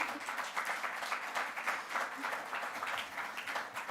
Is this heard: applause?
yes